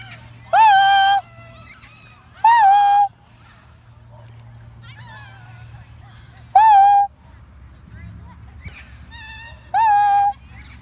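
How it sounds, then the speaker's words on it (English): Wild parrots give loud, harsh calls in four separate bursts, each about half a second long, over a low steady hum, with fainter chirps between them. "That's the wild parrots."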